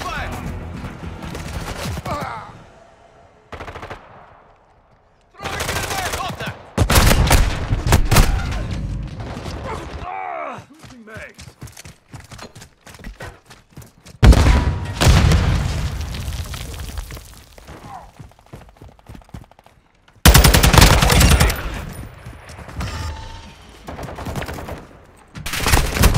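Gunfire bursts from Call of Duty: Modern Warfare II, with loud fusillades of rapid shots arriving in several separate volleys, broken by short quiet gaps and muffled booms, and voices heard between the bursts.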